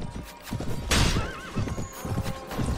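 A spirit horse in Mount & Blade: Prophesy of Pendor lets out a loud wavering neigh near the middle, surrounded by clip-clopping hooves and battle noise.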